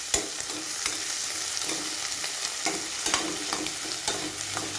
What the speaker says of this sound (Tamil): தக்காளியும் நல்லா வதங்கி வரட்டும்.